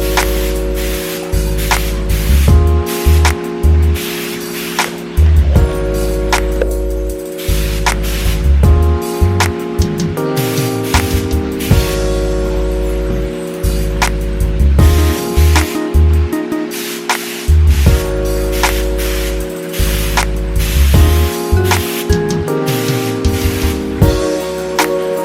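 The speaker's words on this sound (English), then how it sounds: "We're gonna spray this with the first coat." A can of metallic silver spray paint hisses in repeated bursts of varying length, broken by short pauses, loud and close.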